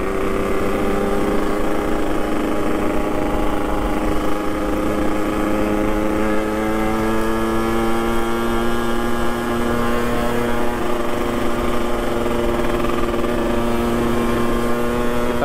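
A Yamaha RX King motorcycle engine revs steadily and loudly on a street ride in Makassar, its rising, layered drone filling the whole stretch without pause and no talk over it.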